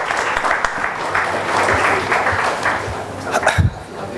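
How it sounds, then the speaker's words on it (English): Audience applause for a distinguished speaker at a Mumbai legal event on the shift from IPC to BNS, a steady wash of clapping lasting several seconds with some voices mixed into the crowd noise. "Let's give a huge round of applause to the distinguished speaker."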